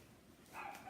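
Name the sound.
dog barking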